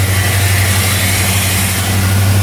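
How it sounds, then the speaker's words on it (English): Car engine idling smoothly right after a cold start, exhaust fitted with headers, a steady low rumbling drone close to the tailpipe with no speech, even and unbroken throughout. "it's got a great sound to it with the exhaust and the headers"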